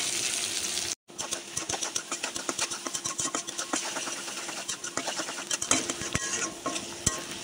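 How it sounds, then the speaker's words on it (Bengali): Onions and garlic fry in hot oil with a dense, continuous crackling sizzle, punctuated by sharp clicks and scrapes of a spatula stirring in the pan, heard up close. "পেঁয়াজ রসুনগুলো তেলে কিছুক্ষণ ভাজা নিব।"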